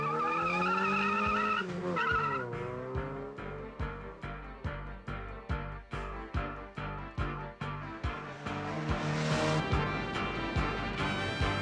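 A Janspeed-tuned Mini Cooper project car, just fitted with an anti-roll bar, roars through a road test, its engine revving hard through rapid gear changes and repeated throttle bursts, with a tyre squeal rising near the end; loud and close throughout.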